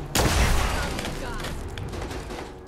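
Gunfire in the video game Fallout 4: a sudden loud blast followed by a rattling, decaying burst of shots, with a player talking in the background.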